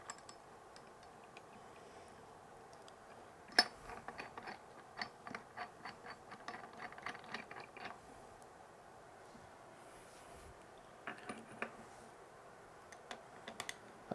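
A ratchet tightens the longer bolts of a cover plate puller during a BTE tamper vibrator motor bearing job, giving bursts of quick, fairly faint clicking with pauses between them, close by and without talk.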